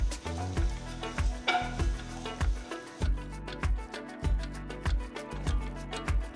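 Steady sizzling of chopped garlic and ginger frying in hot oil, with rhythmic scraping and stirring thumps from a spoon against the pan.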